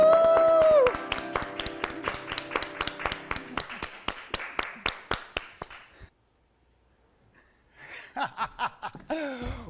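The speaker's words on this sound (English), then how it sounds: "Put your hands together, clap, cheer." A studio audience claps and cheers in a dense burst of overlapping hand claps that thins into a rapid, fading patter over several seconds, then near silence, followed by a few scattered claps and whoops.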